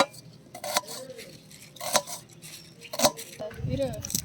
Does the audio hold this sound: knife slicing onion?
yes